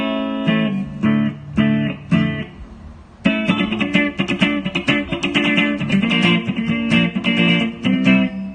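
An electric guitar with a clean, undistorted tone through a Mooer GE100 effects unit and amp cabinet plays a run of plucked notes and chords, choppy at first, then fuller and continuous. No talking.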